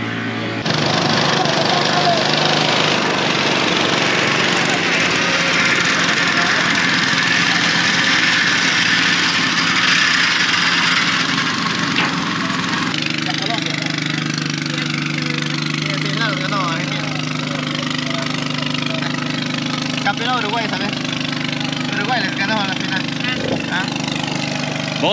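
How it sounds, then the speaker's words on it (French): Outboard motor on a river boat runs steadily, its propeller churning up sand beneath the stuck hull, a loud continuous engine drone with faint talk in the background throughout. "ils tentent une autre technique avec directement l'hélice du moteur"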